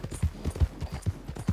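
Horse hooves clip-clop along a road in a video game, a brisk, even rhythm of close, hollow knocks with no talking.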